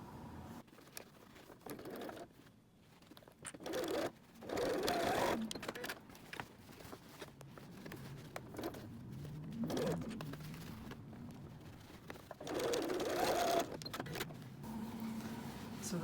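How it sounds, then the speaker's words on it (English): A domestic sewing machine stitches across a bag strap in several short runs of soft whirring, close and fairly quiet, separated by brief pauses and handling noise. "And then we'll sew across."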